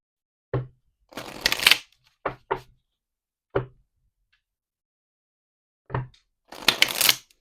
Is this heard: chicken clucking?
no